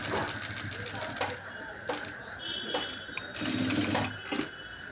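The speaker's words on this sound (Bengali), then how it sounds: "ডাবল করে সেলাই দিয়ে নিব পরবর্তীতে না খুলে যায়" A sewing machine runs a double line of stitching along a garment placket, a steady close mechanical whirr with rhythmic clicking pulses and brief pauses between runs.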